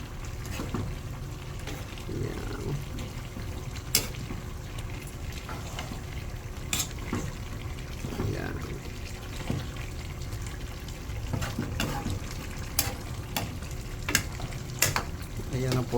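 Nilatik mixture with chili stirred and frying in a pan in Camarines Norte, a steady close sizzle with occasional sharp utensil clicks and scrapes throughout.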